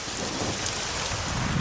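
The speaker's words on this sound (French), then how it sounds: "la pluie a commencé à tomber" Steady rain pours outdoors during a summer streetball tournament, a dense continuous hiss with low rumbling underneath and no voices.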